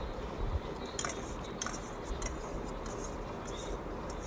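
Canned sardines in sauce are tipped into a pan of sardine gravy in a home kitchen, giving soft clinks and metallic taps of a tin and utensil against the pan over a steady background hiss, with no speech.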